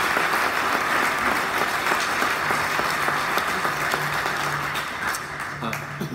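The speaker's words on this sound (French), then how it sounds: "Pouvez-vous l'applaudir, s'il vous plaît?" Audience applause fills a hall at a formal address, steady sustained clapping from a large crowd throughout, fairly loud with a faint voice briefly underneath.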